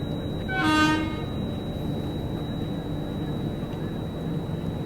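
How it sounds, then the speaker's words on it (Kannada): A train horn toots briefly near the start, then the steady rumble of a goods train with its wagons rolling past a railway crossing continues, fairly loud and close, with no talking. "ಹೇಳ್ದಂಗೆ ಕ್ರಾಸಿಂಗ್ ಐತೆ ನೋಡ್ರಿ. ಟ್ರೈನ್ ಬಂತಿಲ್ಲ"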